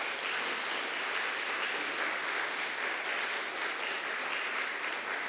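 A church congregation at a Sunday service claps to welcome a newly arrived couple, a soft, even patter of many hands that stays steady and somewhat distant throughout, with no voices over it.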